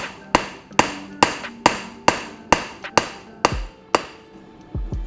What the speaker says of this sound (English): my hammer can hang off and I can really forge that cutting edge down.